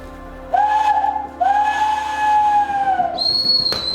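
A steam train whistle from a live stage performance of Tolstoy's Anna Karenina at Ingatestone Hall sounds loudly in two long blasts, followed by a brief, higher-pitched toot.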